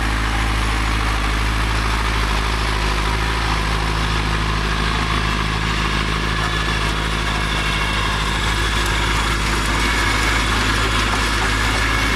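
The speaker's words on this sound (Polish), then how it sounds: "słychać po ciągniku, że ma ciężko" A loud, deep Zetor 7341 tractor engine drones continuously at close range, heavy and labouring under load while pulling a parsley harvester, with a constant low rumble throughout.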